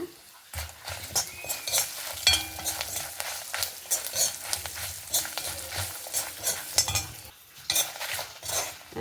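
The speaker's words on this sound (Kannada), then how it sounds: "1 ಟೀ ಸ್ಪೂನ್ ಜೀರಿಗೆ. ಇದನ್ನು ಸರಿ ಹುರ್ಕೊಂಬ." Cumin seeds, with urad dal and chana dal, roast in a pan while being stirred, giving a steady close sizzle broken by repeated scraping strokes of a spoon against the metal.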